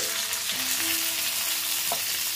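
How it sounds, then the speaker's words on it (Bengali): Slices of eggplant frying in hot oil in a pan, being turned over: a close, steady crackling sizzle with a faint tonal hum and a short stir or scrape near the end, no speech. "বেগুনগুলো সব ভেজে নিচ্ছি।"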